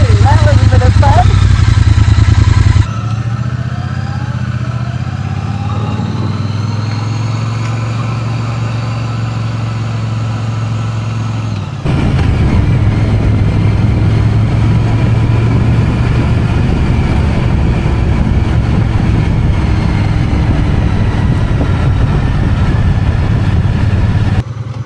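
Triumph Bonneville motorcycle engine under way while riding, a steady loud low drone with wind rush that shifts to a rougher, louder roar partway through as the bike pulls harder.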